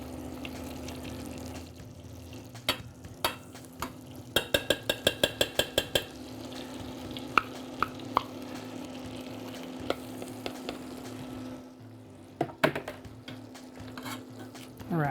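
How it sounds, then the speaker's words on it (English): Peanut butter is stirred into melting butter in a pot on the stove, a quiet steady sizzle with scraping and a quick run of rhythmic taps from the utensil against the pan, then a few scattered knocks. "Just kind of keep stirring it and it'll speed up the melting process a little bit."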